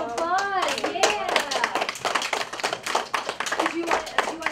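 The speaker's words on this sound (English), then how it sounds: "Everybody give yourselves a round of applause." A group of children clapping together at a story-time gathering, dense and continuous applause mixed with excited voices and chatter throughout.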